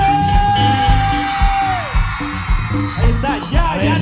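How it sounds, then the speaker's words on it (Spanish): A loud, drawn-out shout held for about two seconds, then several voices yelling and whooping together, a crowd at a live concert. "Y ahora escuchan el grito más fuerte."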